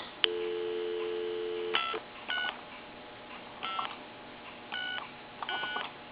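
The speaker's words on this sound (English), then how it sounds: "Now another thing I want to do is I'm going to call my number" A wood wall telephone, a later model, dials a number: a short sequence of separate bright touch-tone beeps spaced irregularly, with a longer steady tone near the start, clear and close.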